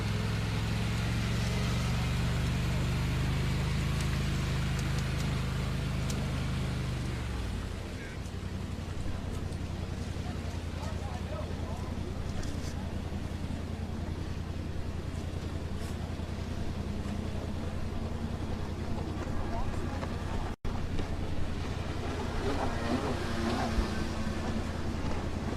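Sport boats and jet skis race on open water at a moto event, their engines a steady continuous drone that holds throughout, with a brief low engine tone fading early on.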